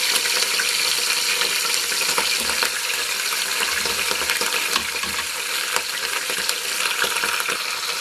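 Hare stifado ingredients sizzle and fry steadily in a pot, a constant close crackling hiss with occasional stirring scrapes and no talking.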